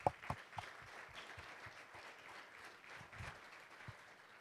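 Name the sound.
applause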